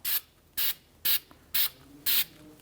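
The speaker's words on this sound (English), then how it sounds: "We're going to use the spray stuff." Five short, even hissing bursts of anti-seize sprayed from an aerosol can onto front brake parts of a 2016-2022 Honda Pilot, each about a fifth of a second long, with quiet pauses between them.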